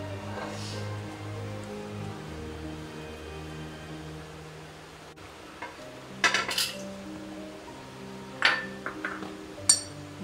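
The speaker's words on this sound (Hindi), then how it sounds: "अब ये सारे मसाले जो है वो मैं कीमे के अंदर पहले मिक्स करती हूँ।" Spices being mixed into minced beef for beef seekh kabab, with a steady low hum and then intermittent soft squelches and clinks of stirring in the second half.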